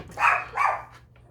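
A dog barks twice in quick succession, close and fairly loud indoors, with a short quiet gap between the two barks.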